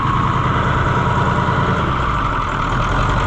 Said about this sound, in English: It idles a little too high for my liking